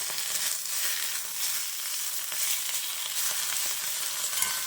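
Drumstick leaves with a pinch of salt frying in a pan for chutney, giving off an even, dense sizzle with faint stirring scrapes, close and unbroken.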